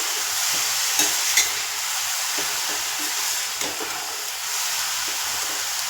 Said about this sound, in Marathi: पाच मिनटं चांगला हलवून घ्यायचं